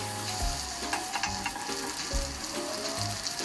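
Thai fried rice with boiled, seasoned chicken and ground pepper sizzles in a pan while being stir-fried, a continuous close frying hiss broken by repeated scraping and tossing strokes, with no talking.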